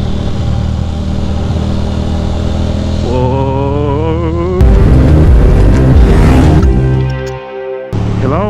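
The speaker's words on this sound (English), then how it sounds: "a little Rossi, a little downshift, a gear or two" A Ducati motorcycle ridden through a sharp turn on a country road downshifts a gear or two, its engine note dropping and blipping in loud stepped surges close by with steady wind rumble, no talking.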